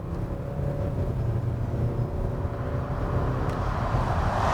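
A Hyundai Santa Fe TM 2.2 diesel pulls away from a stop, its engine a low, steady drone with a faint hum building as the vehicle gets moving.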